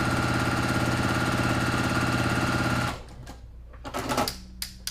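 A sewing machine fitted with an open toe foot stitches quilt pieces in a fast, steady, rhythmic hum for about three seconds. It then stops, leaving a few faint clicks and handling noises.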